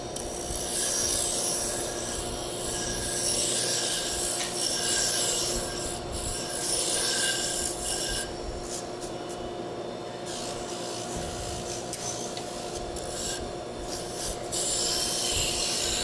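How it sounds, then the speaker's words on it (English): A power sander rubs polish off a wooden drop spindle, giving a steady raspy abrasive hiss throughout with a constant motor hum beneath, close and fairly loud, with no talking. "I will sand off the polish."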